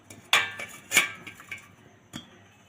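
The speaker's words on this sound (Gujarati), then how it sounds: "તો આપણી પાસે આ કાણાવાળું સીબું છે તે રાખી દેશું" A perforated steel sieve goes into a pressure cooker with a few sharp metallic clanks, two louder hits followed by lighter taps, close and distinct.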